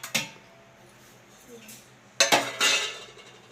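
Utensil stirring in a pot of sugar syrup for gulab jamun on a gas stove, heard as two bursts of metallic clinking and scraping, one brief and one longer, separated by a quiet stretch.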